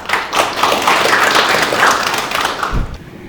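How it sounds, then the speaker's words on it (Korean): An audience at a regional agriculture and air-quality forum opening ceremony applauds a lawmaker taking the stage, a dense, close patter of many hands that runs for about three seconds and ends with a low thump. "김성원 의원님 큰 박수로 맞아주시면 감사하겠습니다"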